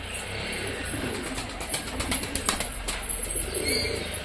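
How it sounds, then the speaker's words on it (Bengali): Domestic pigeons coo while being released and flown from a rooftop loft. Soft, low cooing repeats in the foreground over a rough background wash, with faint bursts that may be flapping wings. "মঙ্গল ধরো ওড়ালো তিনটে চারটে, তাহলে 8টা পায়রা উড়বে আকাশে।"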